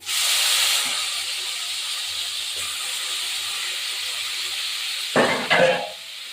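Onions fry with garam masala in hot ghee and oil, giving a loud, steady hiss of sizzling that runs on evenly before a couple of sharp pan clatters near the end.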